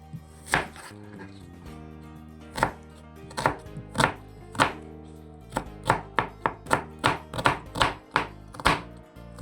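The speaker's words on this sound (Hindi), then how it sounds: "प्याज को आपने चॉप करना है, जैसे आमलेट में कर डालते हैं ना चॉप करके" A knife chopping onion on a cutting board, close and crisp, with irregular bursts of quick knocks, then a steady run of fairly even strokes; no talking.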